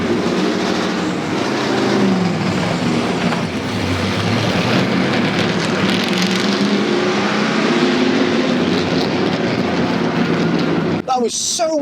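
A NASCAR race car engine rumbles loudly at close range, idling and swelling in revs over several seconds, with excited voices shouting over it before it cuts off near the end.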